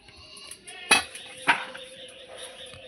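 A metal lid clatters twice onto a cooking pot as eggs are set to boil with a little salt for a steamed egg dish, two sharp clanks followed by faint kitchen clinks.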